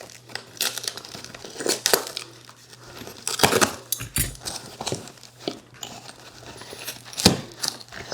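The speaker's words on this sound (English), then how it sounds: "It's got keys." Keys to a Swagtron EB 7 electric bike jangle in short metallic bursts amid steady crinkling and rustling of packaging as the new bike is unpacked up close.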